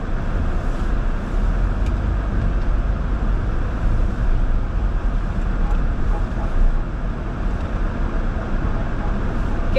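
A car drives through city streets, its steady low engine and road rumble continuous and fairly loud throughout with no pauses or distinct events.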